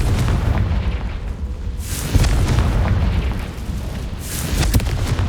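Fire spell explosions from the Hogwarts Legacy PC game, a series of loud booming blasts with rumbling low end, bursts swelling near two and four and a half seconds over continuous battle noise.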